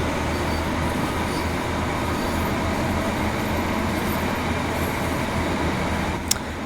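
A Class 150 diesel train running on the St Ives branch line gives a steady, loud rumble of wheels and engine throughout, with one sharp click near the end.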